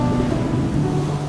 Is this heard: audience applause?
no